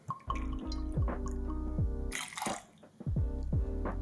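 Liquid pours in short splashing bursts into a cocktail shaker during drink mixing, close and fairly quiet, with gurgling trickles and a few clinks between pours.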